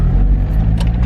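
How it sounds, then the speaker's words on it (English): Mazda NA Miata engine runs with a low, steady rumble as the car pulls away, a brief close burst of throbbing motor noise with no voices. "Car is on the ground and we're running, and we're going to go take her for a drive"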